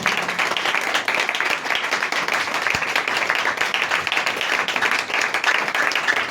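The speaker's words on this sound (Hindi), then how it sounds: "जोर से तालियां बजाएंगे" A church congregation clapping loudly and steadily during a sermon, dense applause filling the whole stretch without letup.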